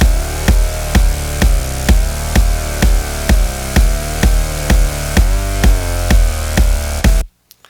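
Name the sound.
EDM kick drum and synthesizer clashing without sidechain compression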